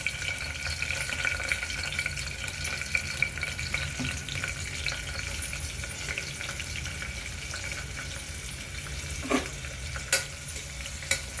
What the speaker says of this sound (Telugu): తర్వాత ఆనియన్ అండి, ఆనియన్ వేస్తున్నాను.